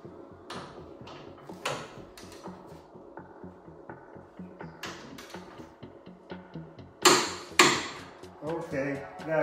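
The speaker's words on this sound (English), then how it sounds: "Now we have to to torque it to 87 foot-pounds or 120 newts." A torque wrench tightens a rear suspension bolt on a 1970 Volkswagen Super Beetle 1302/1303, giving a close series of sharp ratcheting clicks and metallic taps, with a few louder snaps near the end.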